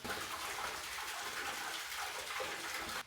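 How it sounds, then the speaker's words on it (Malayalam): Water falls inside an ancient cave at Ilaveezhapoonchira, a steady rushing, splashing wash that fills the space evenly for about three seconds before cutting off, with no voices. "ഇതിനകത്ത് വെള്ളം വീഴുന്ന ഒച്ചയും കേൾക്കാം"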